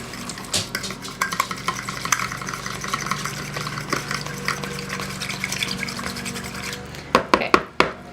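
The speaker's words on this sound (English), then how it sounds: "I'm going to beat this egg and milk oil mixture with a fork just until the egg's incorporated" A fork beats an egg, milk and oil mixture for pumpkin muffins, quick steady clinks and scrapes against the bowl close up, ending in a few sharper taps on the rim.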